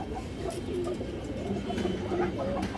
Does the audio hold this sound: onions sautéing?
no